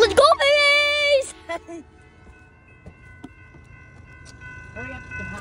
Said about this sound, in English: Waiting for the train. Amtrak train to Amtrak, Michigan.